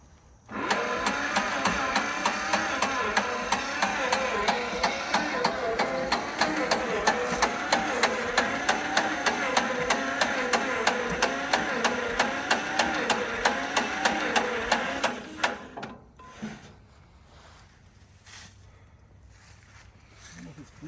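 An old tractor engine that sat abandoned for 15 years runs for about fifteen seconds as a steady, rapid mechanical chatter, loud and close, then cuts out abruptly, leaving quiet rustling and faint background noise.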